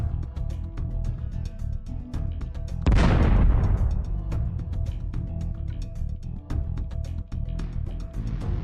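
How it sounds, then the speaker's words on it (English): An FPV drone rams a basement entrance and explodes, one sudden loud blast that decays over about a second, amid a crackling, buzzing battlefield background. "The pilot controlled the FPV drone and rammed the entrance violently."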